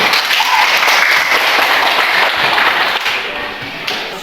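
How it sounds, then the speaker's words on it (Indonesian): Audience at a teacher performance exam session at Universitas Negeri Malang applauding a presenting group, dense loud clapping close by that thins and fades toward the end. "tepuk tangan untuk kelompok 3"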